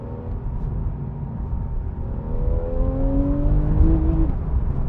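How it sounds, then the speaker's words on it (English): A Porsche 991.1 Carrera GTS engine and exhaust rumble loudly as the revs climb steadily, a deep raucous note that builds toward the end with no voices over it. "It's got a frankly raucous sounding exhaust note to it."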